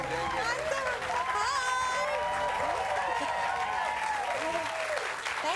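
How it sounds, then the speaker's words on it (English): A studio audience at a television talk show claps steadily and loudly, a dense wash of applause mixed with whoops and cheering voices that lasts throughout. "Please give a round of applause for Meghan McCain"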